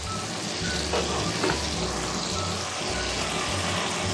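Potatoes and masala for aloo matar pulao sizzle in a covered pan, a steady soft frying hiss heard close and continuous, with a faint clink or two and no talk.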